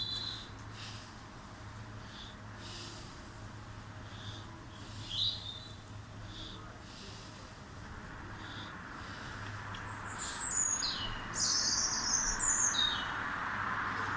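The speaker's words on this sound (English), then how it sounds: "Just seems strange having the birds singing at this time of night." Birds of a daytime species sing at night around 11:30pm, chirps and tweets repeating faintly through the first half, then growing louder and denser near the end over a steady low background hum.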